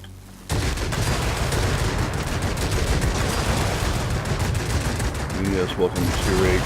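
Aircraft guns on an ME 209 in World of Warplanes rattle in a dense, continuous stream of rapid fire, loud and close, starting abruptly and running without a break to the end.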